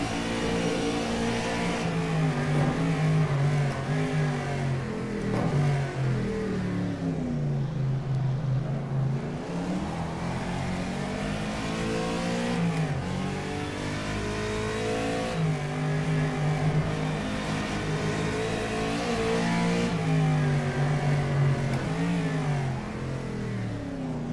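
A 1965 Howston G6 MkI race car engine in rFactor 2, revving continuously with repeated rising and falling pitch sweeps through gear changes and downshifts, loud and close.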